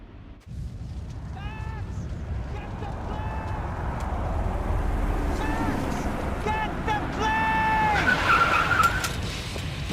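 Car driving with repeated tire squeals and skids in the Max Payne 3 video game, loud engine and screeching tires building toward the end, with voices and game dialogue over the top.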